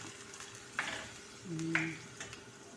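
Vinegar splashes into a pan of sizzling pancit, bringing two short bursts of hissing sizzle with a brief scrape of stirring between them, close and fairly quiet.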